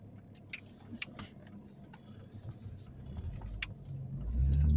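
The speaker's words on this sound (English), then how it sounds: "Ooh, a lot of traffic on this road today for some reason." Cars passing on a road, a steady low rumble that swells as a vehicle draws close near the end, with faint ticking clicks scattered on top and no talking.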